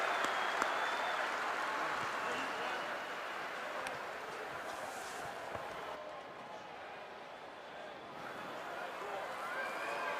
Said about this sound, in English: So if y'all give her a round of applause for all the things we do for C4